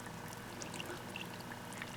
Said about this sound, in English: the water at the bottom of the pot is starting to boil